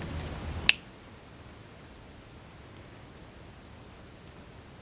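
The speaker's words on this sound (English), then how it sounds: "Instead, the sounds of crickets and barred owls fill the canopy." Crickets chirp at night in the Everglades, one steady high-pitched insect trill running unbroken and fairly close after a brief sharp click at the start, with a faint wash of background hiss.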